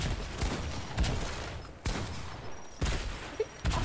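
Rapid gunfire in Fortnite rattles out in repeated bursts, sharp loud volleys of shots broken by brief gaps, with no talking.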